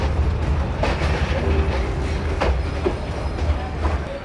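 A passenger train on the Bahraich to Mailani line rolls along the track with a constant low rumble and rhythmic clickety-clack wheel beats, plus a faint squeal, loud and close throughout.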